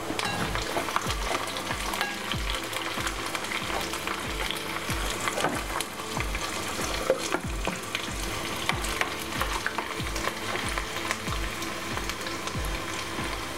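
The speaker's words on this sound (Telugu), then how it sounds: "శనగపప్పు, మినప్పప్పు, జీలకర్ర, ఆవాలు అవన్నీ వేసేసుకుందాం" Chana dal, urad dal, cumin and mustard seeds tempering in hot oil, a dense continuous crackling sizzle with steady stirring scrapes and rhythmic low knocks, close and unbroken throughout with no talk.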